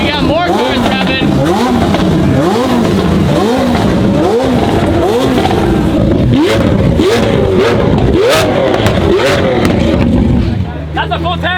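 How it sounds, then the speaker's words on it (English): Supercar engines, including a McLaren, revving hard in repeated rising and falling bursts, very loud and close, with excited voices and crowd chatter underneath. "All right, we got more cars revving."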